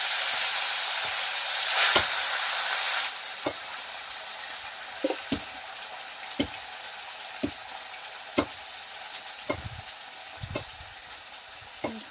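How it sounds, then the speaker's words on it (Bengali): Fried fish pieces sizzle in hot oil in a wok for a Bengali fish curry, a steady crackling hiss broken by sharp clinks and scrapes of a utensil against the pan, close and fairly loud with no talk. "আমি কড়াইয়ের মধ্যে তুলে দিয়েছি কমপ্লিট মাছ"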